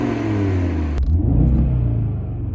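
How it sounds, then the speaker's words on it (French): An Audi TT RS Iconic Edition with its sport exhaust valves open revs hard, a deep loud engine rumble cut by a sharp crack, then a rising and falling revving roar. "J'oubliais le petit bouton échappement sport qui permettra de donner un peu plus de sonorité, qui libère un peu plus l'échappement"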